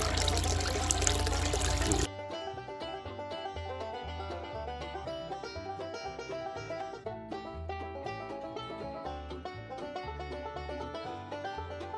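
Water rushes through a gold-bearing gravel washing setup as the pressure is turned up, with a loud, steady broadband gush for about two seconds before the flow continues more quietly under other clattering sounds.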